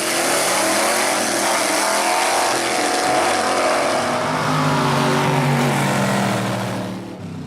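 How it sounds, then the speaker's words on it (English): Vintage Gasser drag cars, including a 1950 Chevrolet Gasser sedan, launch with a loud, sustained, close engine roar at full throttle that holds for several seconds before easing off. "And that's Rodney Potter on the inside with his Shade Tree Racing Gasser sedan, and Johnny Reb Anderson at the wheel of his 50 Chevrolet Gasser."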